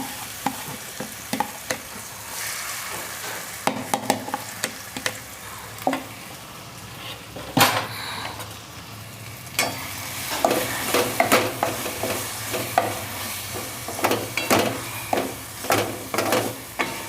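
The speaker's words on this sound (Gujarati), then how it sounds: "તો હવે એને આપણે થોડાક શેકી લઈશું।" Grated beetroot and carrot sautéing in a pan for corn-carrot parathas, a soft continuous sizzle punctuated by repeated scraping stirs of a spoon against the pan, some strokes sharp and close.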